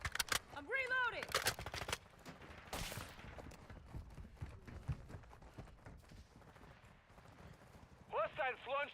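Bursts of gunfire in a third-person shooter game: sharp rapid shots crackle in clusters at the start and again near the middle, mixed with other game noises, with voices calling out in between.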